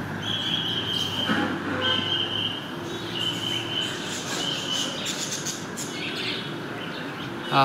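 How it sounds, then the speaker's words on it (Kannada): A parrot calls repeatedly with shrill, piercing notes over a steady rumbling background, fairly close and clear with no talking. "ಅಲ್ಲಿ ಪಕ್ಷಿ ಇಟ್ಟಿದ್ದಾರೆ. ಗುಬ್ಬಿ ಅಲ್ಲ, ಗಿಳಿ."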